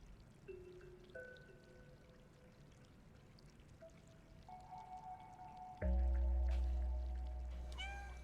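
A cat meows in the video game Stray, with several short cries over a quiet musical backdrop, followed by a louder wash of pouring or dripping water.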